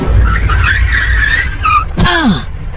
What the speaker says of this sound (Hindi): तभी गाड़ी में जोर का ब्रेक लगा